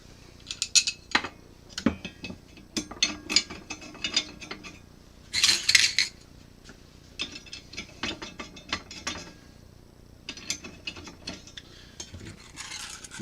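Stainless steel screws and small hardware clink and rattle close by while a Prusa i3 MK3S 3D printer is being assembled, in scattered metallic clicks with a brief jingling burst midway, and no speech.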